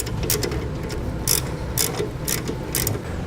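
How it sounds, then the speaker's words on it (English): A hand ratchet retightens a 7mm bolt holding a bracket to the accumulator on a 2015 Ford Fiesta, giving four short bursts of clicking spaced about half a second apart over low background hum. "Now we can retighten the 7mm bolt that holds our bracket to our accumulator."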